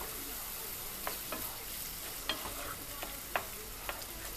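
Taco meat with canned diced tomatoes and green chilies is stirred in a frying pan, a continuous sizzle broken by several sharp spoon clicks and scrapes, with no talking.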